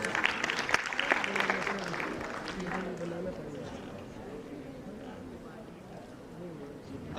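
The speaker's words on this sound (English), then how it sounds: "Please give him a huge round of applause." A conference audience at a health sciences event claps for the chairperson, a dense patter of applause that starts loud and tapers off with scattered voices underneath.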